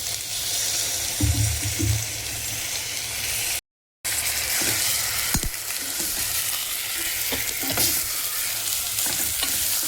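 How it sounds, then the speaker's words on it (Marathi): Water being slowly poured into mutton frying in masala, a steady loud sizzle and hiss with a few clinks of a stirring spoon, close up and without talk. "आता मी याच्यामध्ये हळूहळू पाणी घालणार आहे"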